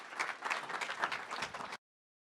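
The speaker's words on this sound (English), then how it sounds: "Let's give her a round of applause." Steady applause from an audience at a city council meeting, a dense patter of many hands clapping at moderate distance, continuing for a couple of seconds before cutting off abruptly.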